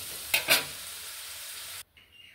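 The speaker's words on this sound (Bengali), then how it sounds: "এই দেখুন আমি ওই তেলে আমি বাদামটা ঢেলে দিলাম। বাদামটা আমি ভেজে নেব।" Peanuts frying in hot oil with a steady, bright sizzle, two sharp bursts near the start as they are stirred. The sizzle cuts off abruptly toward the end, leaving near silence.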